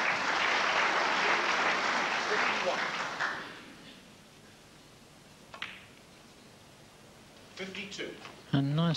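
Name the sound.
audience applauding a snooker shot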